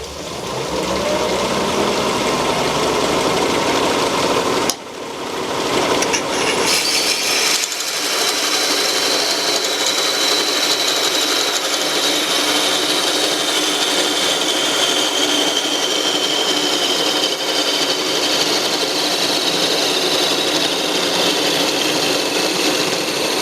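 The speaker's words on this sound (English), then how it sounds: "So I'll go ahead and finish parting this off." A lathe parting tool parts off an end-grain wood piece with a continuous loud whirring cut, a brief dip near the start, then a steady high-pitched scraping whine that persists without speech.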